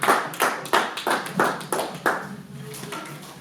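A church congregation clapping loudly in unison to acclaim the Lord, with sharp regular claps about every third of a second that ring in the hall and then fade out.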